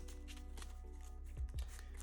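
A deck of Pokemon TCG cards is shuffled by hand, with soft quick riffling and a couple of brief taps, faint and close over a low steady hum.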